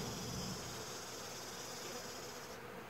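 A steady, faint hum of honeybees buzzing around a hive, like a continuous insect drone heard up close, with no voices.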